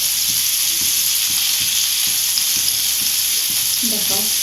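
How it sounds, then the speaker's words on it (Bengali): Chunks of jackfruit fry in hot oil with a loud, continuous sizzle and crackle, with occasional stirring clicks and a brief low sound near the end. "একদম ভালো করে কাঁঠালটাকে ভেজে নেবেন"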